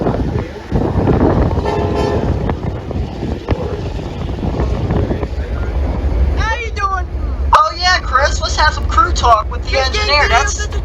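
A train horn blares in several long toots over heavy wind noise and low rumble at a railway spot, loud and close, with people talking nearby.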